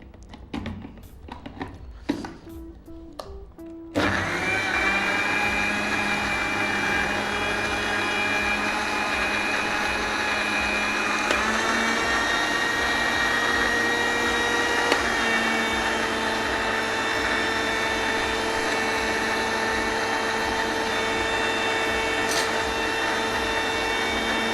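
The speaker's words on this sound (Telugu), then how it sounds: "అదే మాదిరిగా ఇప్పుడు మనం మిక్సీ ఆడించుకోవాలి." An electric mixer grinder blends pear pieces with cold water for juice. A few clunks come first, then the motor starts with a steady, loud whirring hum that runs on for about twenty seconds.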